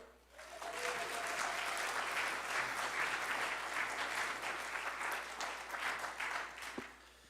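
Steady applause from a congregation at a Sunday church service, dense and sustained for several seconds, fading slightly at the end.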